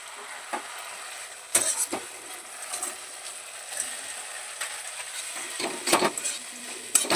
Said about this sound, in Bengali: এবারে আমরা ভেজে রাখা সুইটকর্নটা সসে দিয়ে দেবো